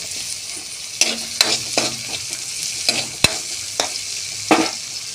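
Chopped onion and tomato fry in a pan over a low sizzle while a spatula stirs with several distinct scraping knocks against the metal, irregularly spaced, with no talking.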